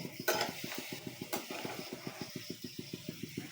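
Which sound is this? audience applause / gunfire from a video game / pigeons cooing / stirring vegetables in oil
stirring vegetables in oil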